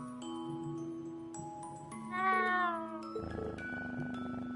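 A kitten in the Trails of Cold Steel video game gives a drawn-out, wavering meow over layered game music and ambient tones, close and moderately loud.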